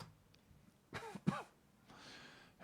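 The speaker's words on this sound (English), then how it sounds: "apologize for all the coughing." One person coughs and clears their throat a few times in quick succession, close and fairly quiet, in an otherwise hushed room.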